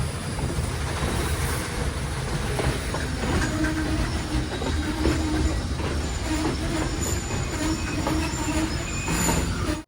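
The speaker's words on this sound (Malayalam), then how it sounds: "ഹലിവേല സ്റ്റേഷനിലേക്ക് ഇതാ ട്രെയിൻ എത്തിയിരിക്കുകയാണ്." A Sri Lankan night mail train on the Ella to Badulla line rolls along with a steady loud rumble, wheel squeal and rail clatter heard from inside the carriage, continuous throughout with no talking.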